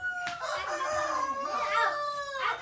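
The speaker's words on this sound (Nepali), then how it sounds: "आर्मीको यो भाले" A rooster crows loudly and close, one long rising and falling call lasting most of the moment, with faint clucking around it.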